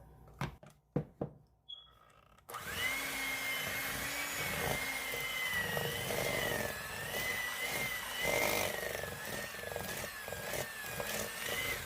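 Electric stand mixer beating chocolate marshmallow sandwich cookie dough at low speed, a steady whirring motor drone that starts abruptly after a few brief clicks and knocks and runs on continuously, close and fairly loud.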